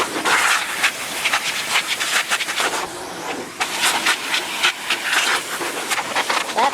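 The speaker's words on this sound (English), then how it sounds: "let's see if we can blast this air cleaner purifier" Compressed air blasts in repeated loud, hissy bursts with brief gaps as it cleans Blueair air purifier filters up close.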